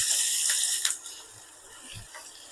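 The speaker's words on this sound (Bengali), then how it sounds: "আবার একটু অল্প করে জল দিয়ে দেবো যাতে মশলাটা পুড়ে না যায়।" A little water poured into spices in a cooking pan for a chicken curry, a short splashing rush at first that quickly fades into a faint, quiet sizzle.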